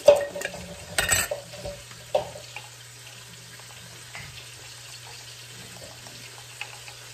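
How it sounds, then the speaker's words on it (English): Stirring a keto sauce in a pan after adding xanthan gum to thicken it, with a few scraping and clattering strokes near the start over a faint low hum and quiet kitchen background. "And then I just kind of stir, stir, stir until it gets a little thick"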